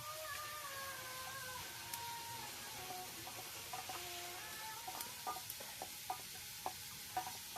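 Food being stirred in oil in a pan over a wood fire, a steady low sizzle with scattered soft scrapes and clinks that get sharper toward the end, and faint background sounds.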